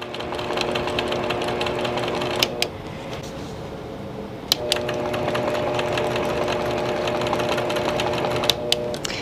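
A longarm sewing machine in manual mode stitches canvas with a rapid, continuous mechanical rattle. The run stops briefly twice, each pause marked by a sharp click, then resumes. There is no talk.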